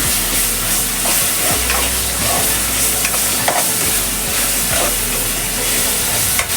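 Close, loud sautéing in oil for chana masala, with a constant sizzling hiss punctuated by repeated scraping stirs of a spoon against the pan.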